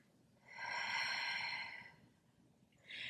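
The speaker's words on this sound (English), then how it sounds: "breathing out through my mouth, inhaling through my nose" A woman doing a prenatal breathing exercise exhales once, a soft, steady breath lasting over a second, then starts another breath, close and quiet.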